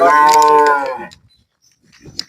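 A single loud, drawn-out cow moo close by, followed by quiet rustling and a faint scrape.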